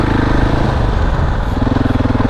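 KTM 690 enduro single-cylinder engine under way off-road, a loud close throbbing rumble with a steady pulsing beat that wavers slightly as the throttle shifts.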